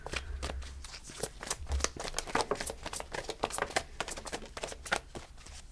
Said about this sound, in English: So let me pick up these cards so that I can start shuffling from this deck.